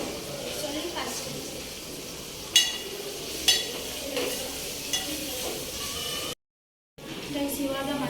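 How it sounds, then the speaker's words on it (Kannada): Mushrooms are dropped into a hot frying pan and crackle with a steady, soft sizzle. A few sharp clinks and taps of utensils stand out over it, and there is a brief gap of silence near the end. "ಇವಾಗ ಮಶ್ರೂಮ್ ಹಾಕ್ತಾ ಇದ್ದೀನಿ ನಾನು"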